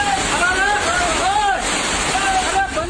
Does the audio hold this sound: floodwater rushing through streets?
yes